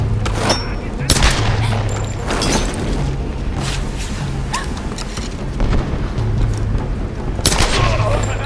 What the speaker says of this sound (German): wie viele Schüsse ertragen die denn?